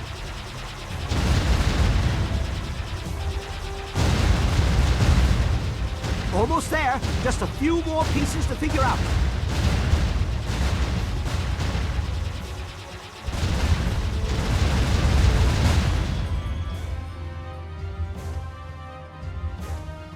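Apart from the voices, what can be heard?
explosions during flight in Jade Empire video game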